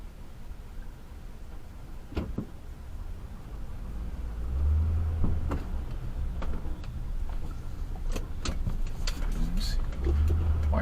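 An XO-1 remote control car speeds along a street, its motor whine and tire rumble rising steadily over background chatter from nearby people.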